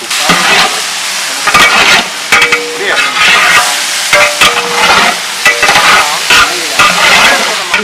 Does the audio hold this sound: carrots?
yes